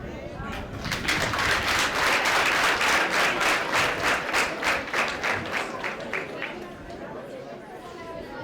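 A crowd claps together at a community ceremony marking Heroes' Day in Busogo sector, Rwanda, the applause loud and sustained with rhythmic bursts before fading; faint chatter sits beneath.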